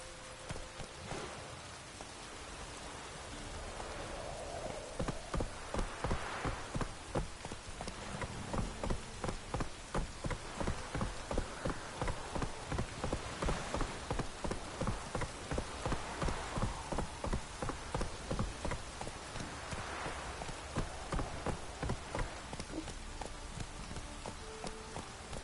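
Rhythmic hoof clip-clop of Roach, a horse in The Witcher game, galloping steadily through rain, with a dense hiss of rainfall running underneath the close, even beats.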